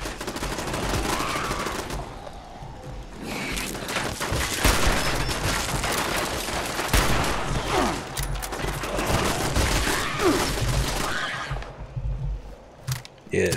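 Automated turrets in the video game Fallout 76 fire at an approaching wave of mole rats, a near-continuous barrage of loud, overlapping gunshot bursts and booms lasting throughout with brief lulls.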